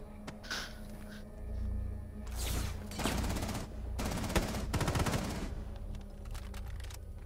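Automatic gunfire in the Rainbow 6 Siege game comes as several rapid bursts of shots in the middle of the clip, fairly close and fading toward the end.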